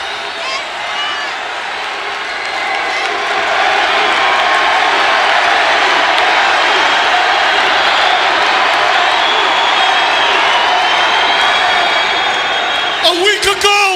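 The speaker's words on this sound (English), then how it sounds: "we tried to make a little noise. Just like this crowd's doing for these four proud athletes" Crowd at a WWE Raw Is War wrestling arena cheering and applauding, a broad steady roar that swells after the first few seconds and holds loud, with a voice talking over it throughout.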